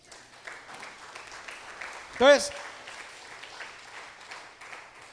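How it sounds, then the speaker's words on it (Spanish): Church congregation applauding, a soft steady patter of clapping throughout, briefly overlapped by a single spoken word from a man. "Un aplauso al Señor"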